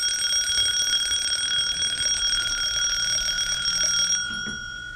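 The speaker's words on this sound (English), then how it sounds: "Webster, turn that damned alarm off." A loud, steady electronic alarm rings continuously with sharp, sustained tones, then drops off slightly near the end, in a police station scene from a radio drama.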